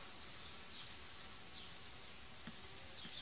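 Honeybees buzzing around a hive while a beekeeper uses a nucleus colony to bring a queen to an orphaned colony, opening frame gaps to let bees through, a soft steady drone with occasional louder passes of single bees close by.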